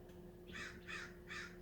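Crows give three harsh caws in quick succession outdoors, fairly distant and faint over a steady low hum.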